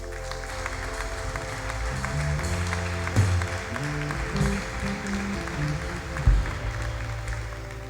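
A church congregation claps during a sermon, a moderate wash of applause over sustained worship music, with a few louder thumps along the way.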